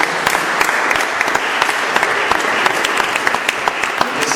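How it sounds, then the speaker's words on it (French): A church congregation at a Sunday worship service breaks into loud, sustained applause to welcome a preacher, dense and close clapping with crisp individual claps throughout. "Sous vos applaudissements, notre frère Anthony"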